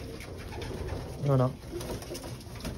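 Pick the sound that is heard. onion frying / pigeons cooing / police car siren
pigeons cooing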